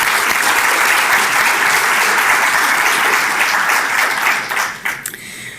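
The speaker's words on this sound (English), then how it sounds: "I really have to give her personally a round of applause and thanks for your leadership" A loud crowd applauds Commissioner Eileen Higgins at a public-spaces talk about the Underline, with dense sustained clapping that thins and fades out near the end.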